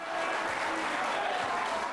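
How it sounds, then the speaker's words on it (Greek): A crowd breaks into applause after the official announcement of an Egyptian presidential election result, a steady wash of clapping heard faint and somewhat distant throughout. "Άπαντες ξέσπασαν σε θερμά χειροκροτήματα."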